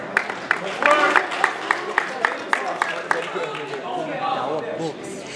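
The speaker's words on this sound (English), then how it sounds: "Ladies and gentlemen, a round of applause for Team Finland." Audience applause for Team Finland at an IMMAF 2015 amateur MMA event, a spatter of hand claps of moderate level running under a talking voice and crowd noise.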